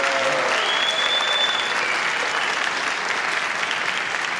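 A 1972 television studio audience applauds for Senator George McGovern, a full, dense burst of clapping that holds steady and loud throughout.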